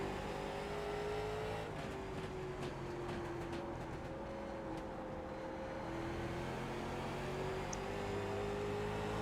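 Late model stock car engine in the iRacing game at Oxford, a continuous buzzing drone with slowly shifting pitch as the car circles, steady and fairly quiet.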